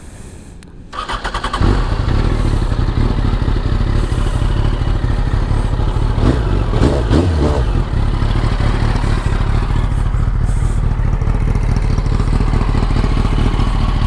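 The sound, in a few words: motorcycle engine cranking and idling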